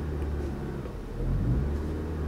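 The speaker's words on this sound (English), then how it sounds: "So I'm revving the engine just a little bit." Engine of a 2023 Lexus RX 500h hybrid SUV revved lightly, a steady low rumble that swells partway through, heard close from inside the cabin with no talk.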